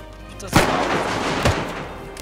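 Gunfire in the video game DayZ: three sharp, loud shots spaced about a second apart, each with a short booming tail over a low background.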